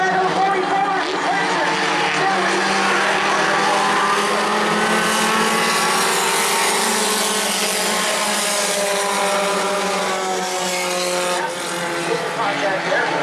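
Race cars roar around an oval short track during a weekly racing event, a loud continuous blend of several engines droning and shifting pitch, with an announcer talking over the din throughout.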